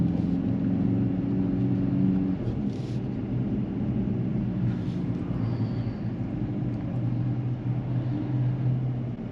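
Low, steady rumble of the 2024 Mercedes-AMG C63 S E-Performance sedan running close by, with a few brief crackles and pops from its exhaust scattered through the drone.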